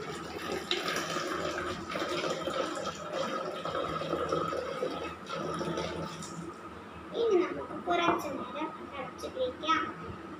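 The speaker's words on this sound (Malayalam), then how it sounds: "ഇനി നമുക്ക് ചൂടുവെള്ളം എടുത്ത് ഇതിലേക്ക് ഒഴിക്കാം." Hot water is poured into a container during a simple home science experiment, a steady watery splash and trickle running throughout with voices in the background.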